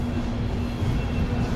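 Sabari Express passenger train running after leaving Nalgonda, a steady low rumble of wheels and carriage with a faint constant hum, fairly quiet and unbroken.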